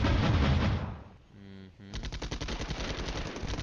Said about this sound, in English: that's our artillery again